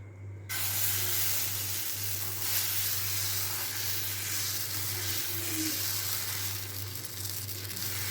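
Adai dosa batter sizzling on a hot stone griddle, a steady, loud, dense hiss that starts abruptly and holds throughout over a low hum.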